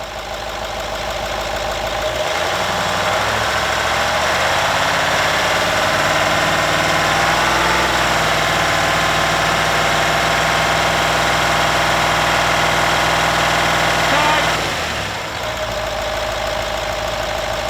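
A car engine runs steadily for about twelve seconds, held at roughly 2,500 RPM during a home battery charging test, with a constant mid-pitched drone and a slight knocking texture. It starts and stops abruptly, with no talking.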